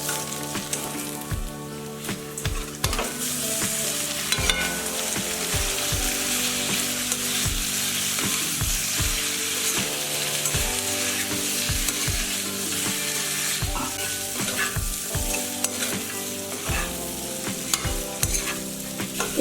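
Boiled pork frying in a pan with onions, a few leaves and four green chillies, a steady loud sizzle with repeated stirring scrapes throughout, no talking.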